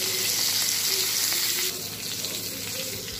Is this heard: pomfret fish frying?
yes